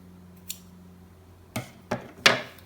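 Scissors snipping stray yarn ends from a crocheted crop top, a few crisp separate cuts close by after a faint early click, with quiet gaps and no talking.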